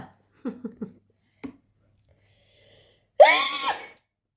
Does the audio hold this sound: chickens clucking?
no